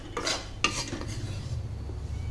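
Wheat flour roasts in a pan over a low flame for halwa while a spoon stirs and scrapes against the metal, giving a few close scraping strokes over a soft, faint sizzle.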